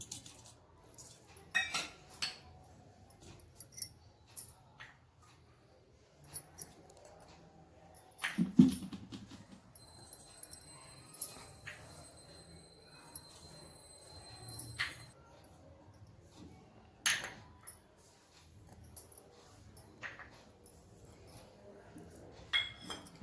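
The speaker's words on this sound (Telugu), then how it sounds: "ఇప్పుడు అన్ని మసాలాలు వేసి కలుపుకుందాము. చూడండి, ఒక్కొక్కటి వేస్తున్నాను." Spices for a fish fry masala are dropped one by one into a bowl and stirred, producing sparse, close clinks and taps of a spoon against the dish over a quiet background.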